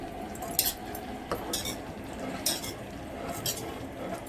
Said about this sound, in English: always keep stirring